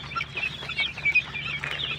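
Chicks of a small chicken breed on a farm in Warangal give a chorus of high, thin peeps and chirps, continuous and fairly close with no talking.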